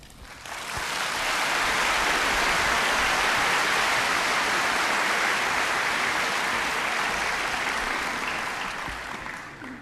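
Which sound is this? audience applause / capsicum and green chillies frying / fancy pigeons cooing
audience applause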